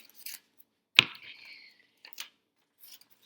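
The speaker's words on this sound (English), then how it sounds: "take your scissors and cut" A few crisp snips of scissors slicing through paper, one sharp cut followed by a brief sliding rasp, then lighter clips, close and quiet.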